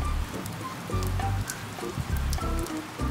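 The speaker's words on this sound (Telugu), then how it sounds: "బయట వర్షం పడుతుంది" Rain falls steadily outdoors, with a continuous patter that swells and eases in uneven bursts over a few seconds. No voices are heard.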